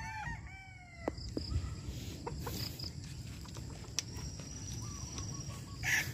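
A bulik gamefowl rooster from a True Blood Hebron line on a farm calls in a few short clucks and crow-like notes, with other fowl chattering faintly in the background over steady outdoor noise.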